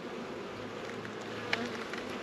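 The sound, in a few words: honey bees buzzing in a hive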